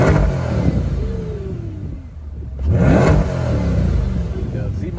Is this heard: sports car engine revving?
yes